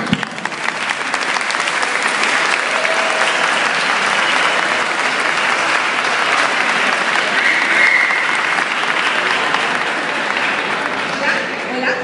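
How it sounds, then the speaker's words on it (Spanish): Sustained applause from a crowd at a cosplay runway show in Gijón, greeting the judges, steady and fairly loud throughout, with cheers rising now and then over the clapping. "Y un aplauso para nuestro jurado."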